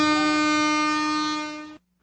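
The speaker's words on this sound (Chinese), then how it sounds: "这是火车的汽笛声。" A train whistle sounds as one long, steady, loud blast with a rich tonal quality, holding for nearly two seconds before cutting off abruptly into quiet.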